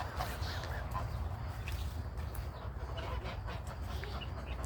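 Geese honk repeatedly in a backyard garden over a dense, steady outdoor background, their calls overlapping and fairly close.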